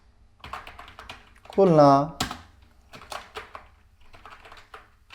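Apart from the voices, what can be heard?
typing on a computer keyboard in PowerPoint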